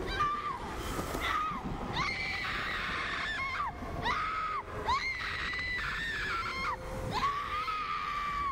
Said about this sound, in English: Okay, you can stop screaming now, Rose.